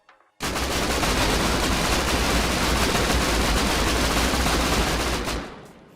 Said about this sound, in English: They're going to fire 30 rounds into their wall.